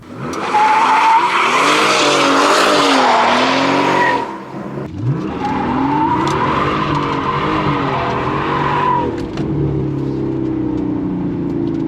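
Mercedes S65 AMG with a V12 engine, traction control off, squealing its tires in two long loud bursts of screeching and skidding over the roaring, revving engine, with a short pause between them.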